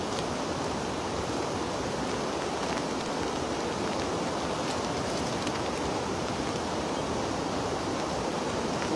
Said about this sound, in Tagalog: Ayun na naman yung ulan.